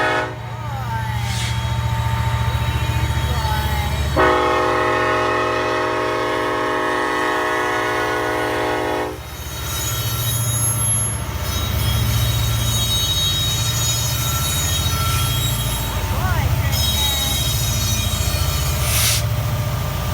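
A train rumbles past with steady low roar and rail noise, a sustained squealing tone cutting in midway for several seconds, then rolling clatter continues.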